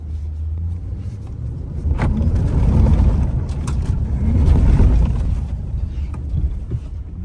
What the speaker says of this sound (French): On va faire un petit drift en partant et on y va